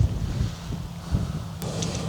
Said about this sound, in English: The wind is gusting at 35 mile an hour.